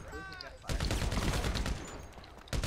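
Heavy automatic gunfire in Grand Theft Auto V, a loud, continuous rattling burst that breaks out after a brief voice and then surges again near the end.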